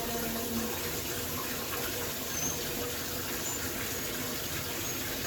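A bathtub at a dog groomer's is filled by hand from a running tap: a steady, continuous rush of water flows without a break, with no talking.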